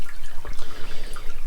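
Aquarium water being drained through a siphon hose during a water change on a Red Sea Max tank, a close, loud gurgling and splashing trickle with irregular bubbly pulses.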